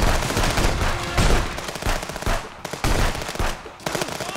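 Rapid bursts of gunfire from a Contraband Police border shootout game, loud and near, with repeated volleys and short pauses across the whole stretch, no talking.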